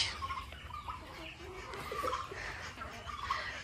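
Hens and roosters cluck softly around a feeder where papaya has been put out, several birds murmuring in short, scattered calls at close range.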